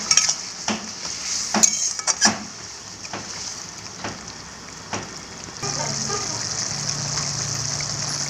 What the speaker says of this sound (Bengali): ঝোল ফুটে গেছে, এবার মাছগুলো দিয়ে দিচ্ছি, দিয়ে আরো কিছুক্ষণ ফুটিয়ে নেব